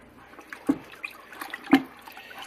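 Apple melomel poured from a jug into a fermenter: a faint, soft liquid trickle broken by two sharp knocks or splashes, close to the microphone.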